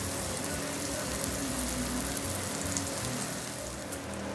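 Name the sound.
cheese frying in a pan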